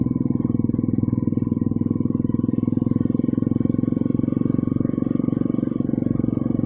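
Kawasaki KLX 150L trail motorcycle engine and muffler running steadily with a loud, even low-pitched drone throughout, close by, with no talking over it.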